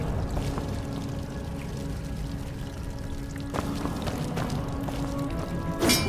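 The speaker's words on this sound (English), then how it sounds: "let's try and do some water bending and fire at that mechanism in the left hand side" A water bending attack in the video game Where Winds Meet gives a continuous rushing, pouring water sound with a few sharp splashes, heard alone without talk.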